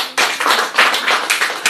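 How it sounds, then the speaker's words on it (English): A church audience claps loudly and close, a brief rhythmic burst of hand claps repeating roughly every half second. "Please clap for her."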